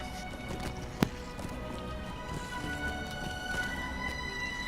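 Goat mount's hooves running in the online game The Lord of the Rings Online (LOTRO); quick light clip-clop hoofbeats over a steady game ambience with a single sharp thud near the start, no talk.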